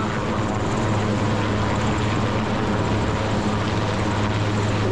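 A military helicopter of the Kenya Defence Forces airlifts soldiers hanging on ropes during a rescue display at Uhuru Gardens, its steady loud rotor and engine roar filling the whole span without a break.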